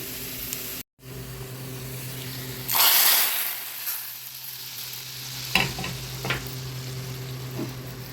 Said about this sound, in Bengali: এখন এটা ভালো করে একটু ভেজে নিব রসুনটা আমি একদম বাদামি করে ভেজে নিয়েছি এখন টকের মধ্যে দিয়ে দিব